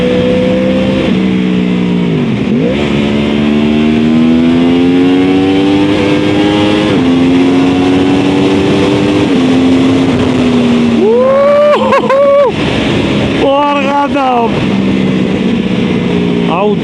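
A 2013 Yamaha R1 motorcycle accelerates hard in third gear, its engine note climbing steadily in a loud close roar, with a rapid shift and renewed revving near the end, under heavy wind rush and a rider's talk.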